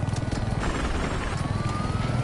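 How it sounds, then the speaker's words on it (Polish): A video game helicopter rotor thrums in a steady, fast, low pulsing drone that stays loud and continuous for the whole stretch, with no talking. "To jest latanie helikopterem"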